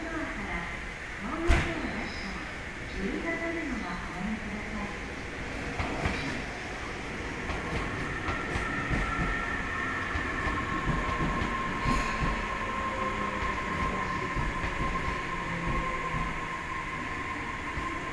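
A Tobu Noda Line train pulls into Kashiwa station, a steady rolling rumble with wheel squeal and a sharp bang early on, sustained throughout over station ambience.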